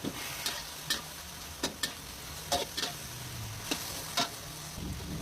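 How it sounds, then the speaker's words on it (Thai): Pork stir-fried with black pepper in a pan, a constant close sizzle with regular sharp ladle scrapes and taps against the metal, no talking. "ผัดให้เข้ากัน"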